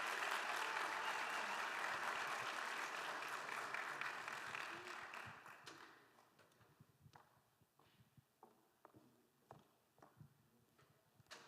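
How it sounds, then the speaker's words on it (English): A crowd applauds a contestant at the GCU 2025 Canyon Challenge with a dense burst of clapping that fades out after about six seconds, leaving scattered soft taps and footstep-like knocks. "Let's give her a round of applause"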